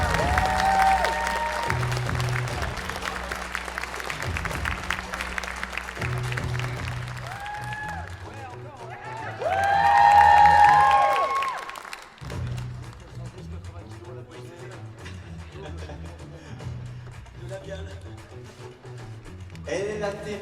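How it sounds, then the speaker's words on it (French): An audience at a voice-actor panel at a Toulouse convention claps loudly, the applause swelling over music and voices before easing off. "Je vous demande d'applaudir très très fort Marc Lesser."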